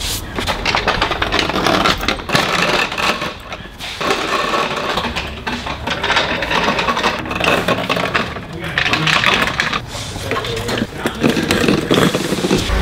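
A forklift carries BMW engines around a garage, giving a steady, loud mechanical hum with scraping and clanking throughout, and voices can be heard talking over it.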